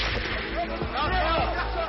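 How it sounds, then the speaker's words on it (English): Gunfire from Syrian regime forces shooting into a crowd of protesters, heard as sharp distant cracks and thuds amid a steady crowd din, with faint voices mixed in. "His regime opened fire on the crowd."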